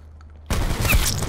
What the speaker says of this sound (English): How you like a shotgun to your face?